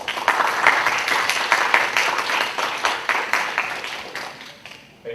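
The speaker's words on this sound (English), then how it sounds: "A round of applause, please." An audience at an academic lecture on economic empowerment for people with disabilities breaks into loud, close applause, a thick roll of many clapping hands that holds steady before tapering off near the end.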